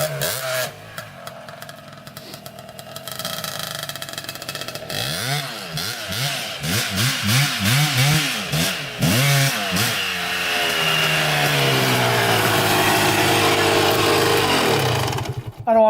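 A Kawasaki KX125 two-stroke dirt bike riding a motocross track, its high-pitched buzzing engine revving up and down through repeated rises and falls, then holding a loud steady wail as it passes close by.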